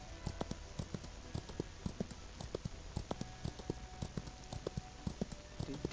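Donkey hooves in the Old West game Outlaws of the Old West clop in a quick, uneven rhythm of sharp hits, close and fairly faint, with no talking.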